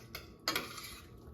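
Onions stirred in oil in a pan, a utensil scraping and clinking against the metal with two brief bursts of scraping over a faint sizzle.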